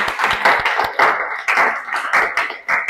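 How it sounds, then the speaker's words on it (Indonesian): A classroom of pupils claps hands together, a loud close run of quick claps that falls into a rough shared rhythm, with sharp individual slaps standing out over about three seconds and no speech. "Oke, beri tepuk tangan."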